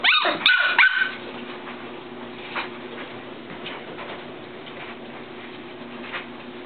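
A puppy yaps a few quick, high barks at the start, then the rest is a steady low hum with faint ticking.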